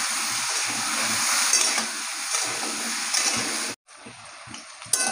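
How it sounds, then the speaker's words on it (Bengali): Potatoes fry in hot oil with turmeric in a home kitchen pan, a continuous crackling sizzle with occasional stirring, then a sudden brief cut before the sizzle returns. "এবার এই আলুগুলোকে আমি ভালো করে ভেজে নেব।"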